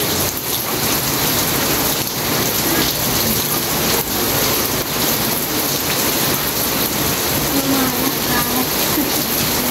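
Heavy rain pours steadily and loudly onto surfaces, a dense continuous hiss with occasional low rumbles, sustained throughout without pause.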